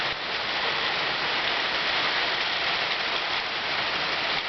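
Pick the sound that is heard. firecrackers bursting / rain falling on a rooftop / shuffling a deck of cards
rain falling on a rooftop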